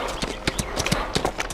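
Horse hooves clip-clop in a steady, uneven rhythm at close range, with faint background murmur around the footfalls.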